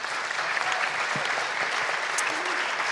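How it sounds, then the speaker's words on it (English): A startup pitch audience applauding, a steady wash of clapping from a room full of people, held evenly for a few seconds at moderate distance. "So, one applause."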